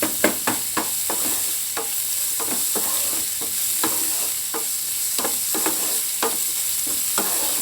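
Onions salted and frying in a pan hiss with a bright, constant sizzle, punctuated by quick, regular spatula scrapes and taps against the pan surface.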